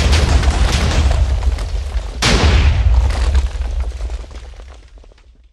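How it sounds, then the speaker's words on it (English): Large TNT explosions in Minecraft roar as a loud, continuous rumbling blast, with a fresh boom partway through before the noise slowly fades out. "Oh, I hear the first explosion."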